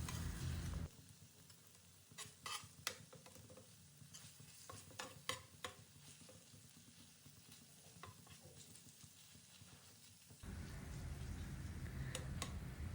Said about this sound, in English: We'll let this sizzle for a few seconds on the hot tawa